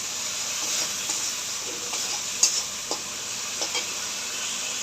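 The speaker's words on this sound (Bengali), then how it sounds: "এক চামচ নুন দেবো, দিয়ে মশলাটাকে ভালো করে কষাবো।" Spice paste with turmeric and salt is sautéed in a pan for a vegetarian potato, pointed gourd and soya chunk curry, giving a steady close sizzle with a few soft scraping stirs, no talking.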